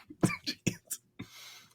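A few short, dry coughs in quick succession, close by, followed by a brief throat-clearing rasp.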